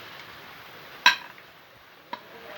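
Chilli powder is stirred into a pan of Kerala-style chicken curry: one sharp metallic clink of a spoon against the pan, a quieter tap a second later, and a faint low sizzle between them.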